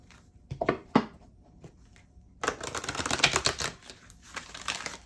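Angel oracle cards being shuffled, a few soft slaps and flutters at first, then a steady dense riffling of cards close by.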